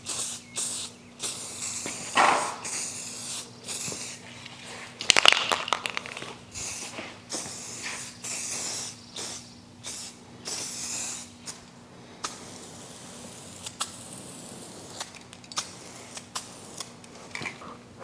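Liquid powder coat being spray painted onto suspension parts for a 1950 Chevy four-link and coilover setup, with short bursts of hissing spray separated by pauses, one sharper near burst midway, and light clatter around it.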